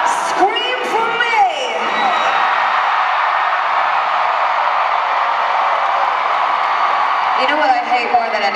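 A large concert crowd at a show in Miami screams and cheers loudly and continuously, with whoops and shrieks rising above a dense roar that holds steady for several seconds, and a singer's voice is briefly heard over it.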